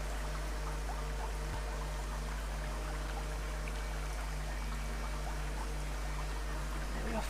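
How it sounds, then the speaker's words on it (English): Steady water flowing and trickling in the video game Dear Esther, a soft continuous stream with a low hum beneath it, unbroken throughout and with no voices. "All the sound effects are really good as well, like the water."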